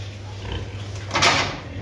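A sow grunts in a pen with her piglets, giving low, close, short grunts over a steady low hum, with no talking.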